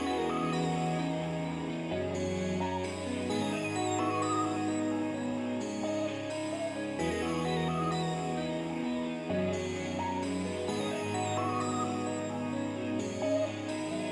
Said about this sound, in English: So far the melody altogether sounds like this if we just put both guitars on at once.